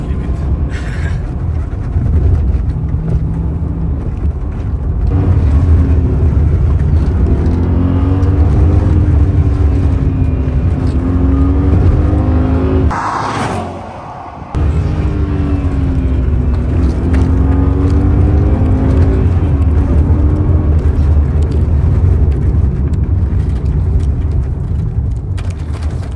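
BMW E39 M5 driven through a small village in Mexico: a loud, steady engine drone with road and cabin rumble throughout and a brief dip midway, with people talking over it.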